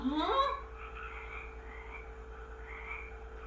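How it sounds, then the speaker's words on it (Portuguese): Frogs croak steadily in a dense chorus, with a louder call at the start and a continuous trilling din throughout. "Era tanta rã, e as pessoas desesperadas porque as rãs pulavam em tudo quanto é lugar."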